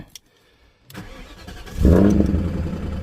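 A 2000 BMW E39 540i with the M62 4.4L V8, after Vanos solenoid work, cranks after a faint click and a short pause, then catches with a loud rising roar and holds a rough, fast idle.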